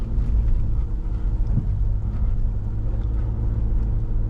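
A car drifting in a donut, heard as a steady low engine drone with wind buffeting across the microphone and no distinct tire squeal standing out.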